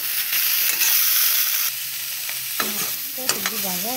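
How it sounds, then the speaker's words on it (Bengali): Cauliflower and potato pieces fry in hot oil in a kadai, with a loud steady sizzle and repeated scraping stirs of a spatula, the scrapes growing sharper and more frequent toward the end. "হালকা করে ভেজে নিলাম।"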